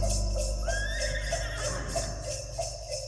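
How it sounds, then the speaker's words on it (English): A horse gives a loud, close whinny that rises and trembles, over a steady rhythmic clip-clop of hooves that continues underneath and after the call, with no one speaking. "Get that horse out of here."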